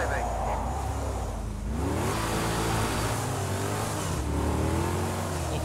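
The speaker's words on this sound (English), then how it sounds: "racing with a Chevrolet Camaro" A Chevrolet Camaro ZL1 races around Indianapolis Motor Speedway in the video game Project Cars 2, its engine droning and rising in pitch as it accelerates, with a commentator talking over the continuous motor sound.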